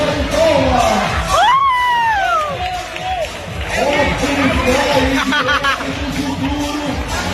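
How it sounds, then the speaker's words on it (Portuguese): An audience cheers and whoops loudly for a robot dancing inside an Adventist church, with shouting voices and crowd babble rising and falling throughout. "Convidado com uma salva de palmas."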